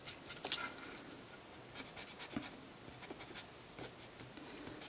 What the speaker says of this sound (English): Take my eraser, rub out those marks